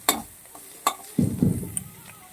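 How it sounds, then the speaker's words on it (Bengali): Grated ginger and spices being stirred and fried in a pan, with a few sharp scrapes of the spoon early on, then a soft, close sizzle and stirring noise that trails off. "সেটাকেও দিয়ে দিচ্ছি দিয়ে আরও তিরিশ সেকেন্ডের মতো আমি নাড়াচাড়া করে নেব"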